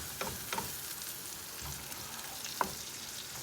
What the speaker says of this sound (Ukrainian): Поки воно буде смажитися, тому це зробимо.